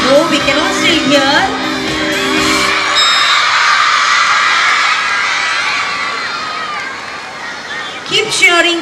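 Crowd of children cheering and shouting at a school relay race during an annual sports meet, a dense, loud roar with shrill whoops and a voice talking over it early on.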